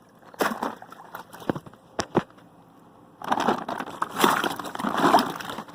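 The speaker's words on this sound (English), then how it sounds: "all you need to do is dunk it in the water" A perforated bag of frozen weeds is dunked into water, with sloshing, crinkling plastic and gurgling in short bursts, then a longer, louder stretch of splashing and crumpling close by.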